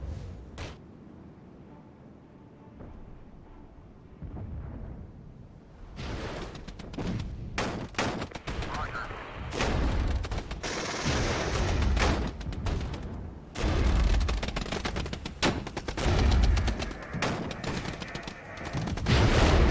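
Rifle gunfire in the wargame Regiments: quiet at first, then dense volleys of distant and nearer shots crackle and thump in irregular bursts, with occasional booms and a voice speaking over the battle.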